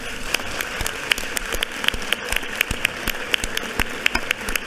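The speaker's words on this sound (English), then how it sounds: "Would you please honor them with an applause?" Sparse, scattered clapping from a modest crowd at a state Senate hearing, distinct individual claps popping irregularly over a soft background hiss.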